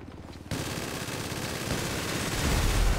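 Rapid automatic gunfire from a tank-combat video game, with a burst of loud continuous shooting kicking in after a brief quieter start and building in intensity toward the end.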